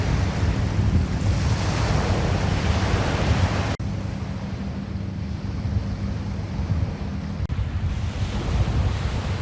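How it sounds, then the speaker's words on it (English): Waves roll steadily onto a beach on Prince Edward Island's North Cape coast, a constant loud wash of surf mixed with blustery wind noise, and no distinct boat engines stand out. "the sounds of the fishing fleet were heard over that of the waves rolling onto the beaches"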